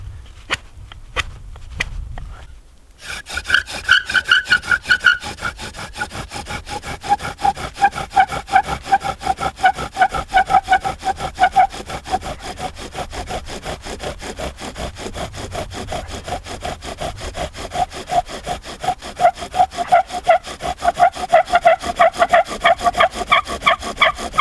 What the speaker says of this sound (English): I'm gonna sharpen this up again.